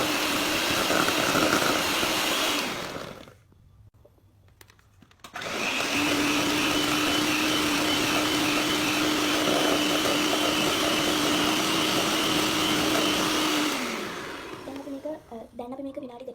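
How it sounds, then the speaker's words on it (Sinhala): Butter is beaten soft for cake batter, making a loud, steady mechanical whir that cuts out for a couple of seconds, starts up again, and then winds down at the end, with a voice audible at times. "ඉස්සෙල්ලාම අපි කරන්නේ බටර් ටික හොඳටම සොෆ්ට් වෙනකම් බීට් කරගන්න එක."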